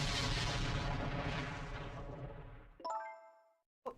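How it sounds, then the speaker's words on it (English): A game explosion effect with a heavy, rumbling boom that decays over a few seconds, then a bright metallic ringing ding and a short final thud, loud and close, with no talking. "An explosion!"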